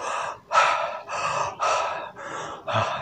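Six loud, breathy inhalations drawn in through the mouth follow one after another in a steady rhythm, each a close, airy gasp with short pauses between.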